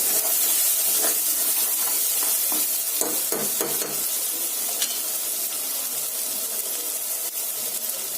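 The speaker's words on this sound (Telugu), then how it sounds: "తర్వాత కొంచెం పసుపు బాగా కలుపుకోవాలి" Turmeric is stirred into a simmering fish curry in a pan in a home kitchen, a steady close hiss and sizzle with scattered spoon scrapes and clinks against the pan.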